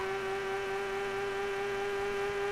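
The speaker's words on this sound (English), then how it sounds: "this is, oh god, the only engine sound in the game" Continuous, unchanging synthesized car engine hum from the video game Top Gear GT Championship, a buzzy flat drone at steady pitch and volume with no talk over it.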